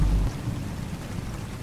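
Rain and thunder in the game Signal Lost, a low rumble at the start that fades into a steady wash of falling rain, with no voices.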